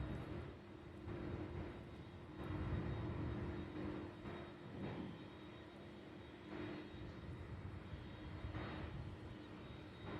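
Sun Country Airlines Boeing 737-800 arriving on runway 35 left at Louisville, a faint, distant jet rumble that swells and eases in soft waves, heard alone without talk.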